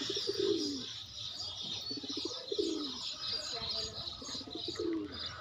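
A pet pigeon coos repeatedly up close, rhythmic throaty calls with some chirps and a brief flutter of wings, heard against faint background voices.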